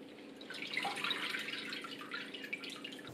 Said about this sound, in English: now I'm just going to take out the big bits and put them in a colander and then strain off the liquid